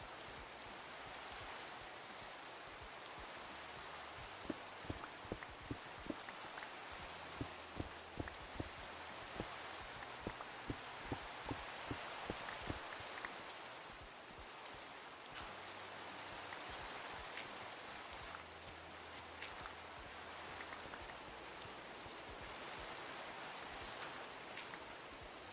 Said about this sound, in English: Now we get to enjoy some rain sounds.